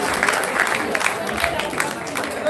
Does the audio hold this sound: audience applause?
yes